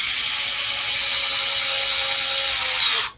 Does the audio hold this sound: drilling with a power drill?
yes